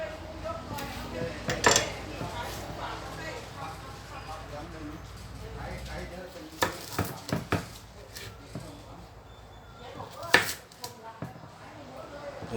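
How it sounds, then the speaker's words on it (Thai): A knife chops through a melon with its peel on, on a board, with a few sharp thunks standing out, while someone talks over the cutting. "จะไม่ปอกเปลือกเนาะมันจะหั่นทั้งเปลือกนะครับผมนะ"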